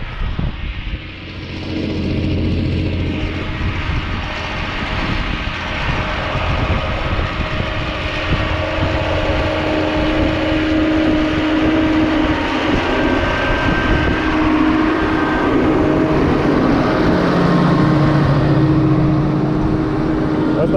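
A tractor ploughs an alfalfa field slowly in a steady, heavy pull, its loud continuous engine drone and mechanical rumble filling the whole stretch, with faint tonal whines rising and falling over the noise.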